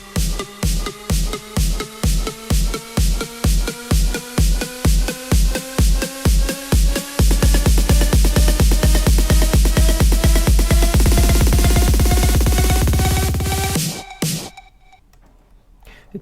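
An electronic build-up made from sampled snare and kick hits with a synth rises in pitch as the rhythm speeds from steady pulses into a rapid roll. It swells loud to a sudden cutoff, then a brief faint tail.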